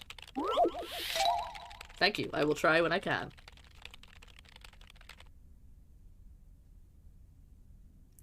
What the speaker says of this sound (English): I love that the typing stopped. Her typing noise stopped, but her fingers kept going.